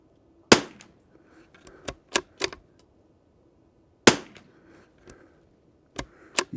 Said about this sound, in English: Let's put another 5 shots, see what we can do.